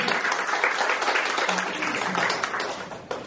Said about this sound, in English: I would like a huge applause for those young women